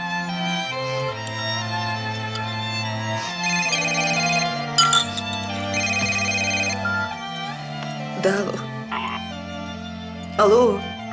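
A mobile phone ringing with a melodic ringtone, a loud close repeating tune of stepped notes, with a few other brief sounds in between.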